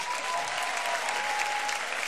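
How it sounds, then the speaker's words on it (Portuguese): A crowd at an event session claps for Tigas, a continuous, even wash of many hands applauding nearby, steady throughout with no voices on top. "Mais uma salva de palmas pro Tigas."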